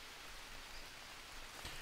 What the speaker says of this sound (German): Also, es regnet gerade.